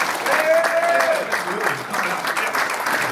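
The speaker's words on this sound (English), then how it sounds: "it's time for a round of applause for all the people whose hard work goes into getting to 100" An audience applauds in a hall, a dense, sustained clatter of clapping with a faint voice or tone running briefly beneath it.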